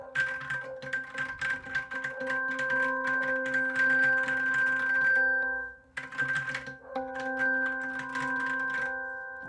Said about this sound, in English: typing on my computer keyboard here